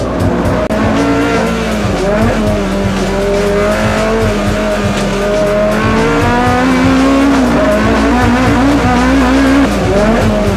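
GT3 race cars, including a Lamborghini, Porsche and Ferrari, racing in the Pirelli GranTurismo Championship at Calder Park, several engines roaring and shifting pitch at once with tyre squeal, loud and continuous, no talking.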